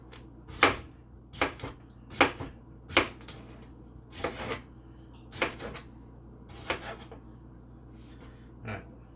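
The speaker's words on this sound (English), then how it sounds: "Next, I'm dicing tomatoes" Knife dicing tomatoes on a cutting board, a series of distinct sharp chops at an irregular pace, close and fairly quiet over a faint room hum.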